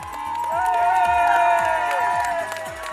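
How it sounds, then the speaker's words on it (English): Crowd cheering Kenyan runners along the New York Marathon course, a steady wash of shouts and voices rising and fading over roughly three seconds. "A team from Kenya Airways was on the ground to join other Kenyans in cheering the"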